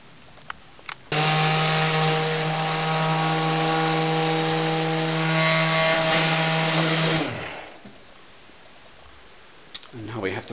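A power drill bores a precision hole in a harpsichord jack during repair, its steady whine holding loud and close for about six seconds before winding down, with faint workshop clicks around it.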